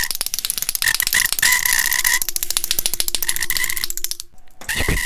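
A rapid, rasping rattle of clicks and croaks comes up close and loud in quick bursts, a sound offered as a back-and-forth jigsaw, with brief gaps between runs.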